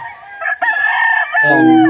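A gamecock rooster crows loudly and close by, a long strained call that rises then holds, with a brief clucking catch partway through.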